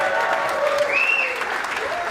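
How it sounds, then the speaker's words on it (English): Steady round of applause from a crowd at a town hall gathering in North Hampton, New Hampshire, fairly loud and continuous, with faint voices and whoops rising over the dense clapping throughout. "How about a round of applause for Mackenzie Murphy?"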